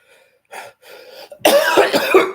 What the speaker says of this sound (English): even when I cough, I can feel the pain in my side